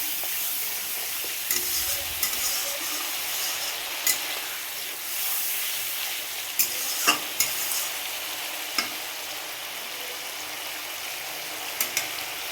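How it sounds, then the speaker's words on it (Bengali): Cumin seeds and spices sizzle in hot oil in a home kitchen pan, giving a steady soft hiss with scattered sharp pops and light utensil clicks, close and alone without talking. "জিরে দিয়ে দিলাম দিয়ে মশলাগুলো দিয়ে দেবো"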